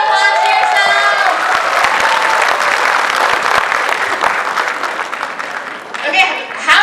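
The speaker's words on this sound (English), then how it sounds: "Give a round of applause to yourself." An audience at a youth conclave breaks into a round of applause, dense clapping with some cheering, while voices talk over it and the clapping thins toward the end.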